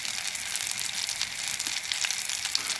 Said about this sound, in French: Quand on entend les petits bloup-bloup, là, c'est le beurre qui chante.